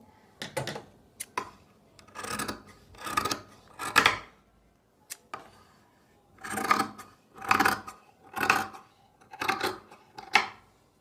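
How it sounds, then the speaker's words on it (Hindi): Scissors cutting fabric for a designer top along marked lines, heard as a series of close, crisp snipping bursts in an uneven rhythm, each cut a short crunchy swell separated by brief quiet gaps. "जहां हमने निशान लगाए हैं वहीं से हम इसकी कटिंग करेंगे"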